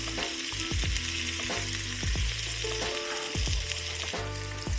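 Lamb chops seasoned with shawarma spice sear in a hot pan, giving a steady loud sizzle broken by repeated sharp clinks and scrapes of a utensil moving the meat.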